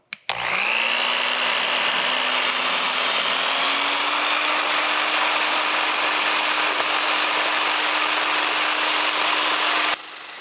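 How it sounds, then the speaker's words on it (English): A Biax power scraper works across the metal way of a Thompson surface grinder, cutting a crosshatch pattern. Its loud, steady, close buzzing hum holds an even pitch for about ten seconds before it cuts off. "I got my power scraper here. This is a Bix power scraper, and we're just going to come through here and put a little crosshatch pattern on it."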